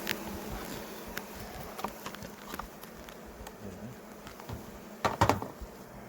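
Honey bees buzz steadily around an opened hive in a highland apiary, a faint continuous drone with scattered close passes and a few louder knocks near the end.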